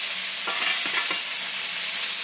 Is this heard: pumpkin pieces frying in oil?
yes